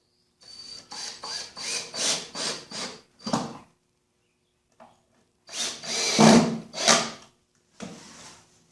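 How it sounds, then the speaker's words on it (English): Power drill driving the first few screws into wood while building a small nightstand, a run of six rapid whirring bursts followed by longer, louder drilling after a short pause, close and with no talk. "while I put those first few screws in"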